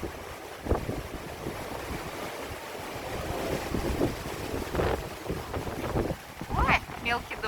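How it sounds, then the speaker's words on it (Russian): Strong wind in Turkey, a loud gusting roar buffeting the microphone with surging rumbles and rustling, continuous throughout, with a voice briefly heard over it. "Ветер страшный."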